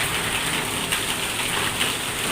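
Heavy rain splashes and pours steadily across an outdoor setup with tables, chairs and speaker cabinets, a dense even hiss with no voices.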